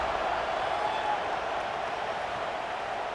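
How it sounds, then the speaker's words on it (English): A dense stadium crowd hums and buzzes steadily in the College Football 26 video game during East Carolina vs NC State after a score, a continuous, even roar with faint clapping mixed in. "this crowd is buzzing after that last score"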